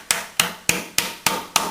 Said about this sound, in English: hammer it in first to get it in there nice and easy